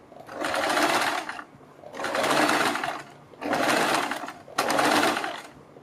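A sewing machine stitches along a fabric neckline beside buckram in four close, loud bursts of rapid rattling, separated by short pauses, with no talk.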